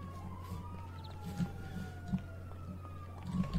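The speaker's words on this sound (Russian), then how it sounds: "Я, правда, слышу эти сирены все." Police sirens wail at a distance in GTA 5, a steady rising and falling tone under low engine hum and occasional thumps.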